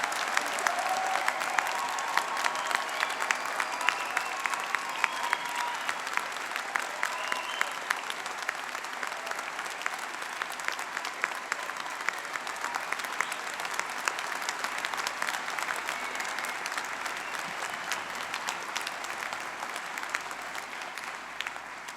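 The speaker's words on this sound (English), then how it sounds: "Graduates, we would like to give you one last huge round of applause." A large crowd at a university degree ceremony in Brighton gives graduates a long round of applause: sustained, dense, even clapping filling the hall for over twenty seconds, with no speech over it.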